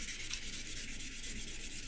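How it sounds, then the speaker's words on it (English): Titanium knife scales are sanded by hand with an even, steady back-and-forth rubbing, soft and close, with no talk. "Just going to make sure that we get a good little even sanding done"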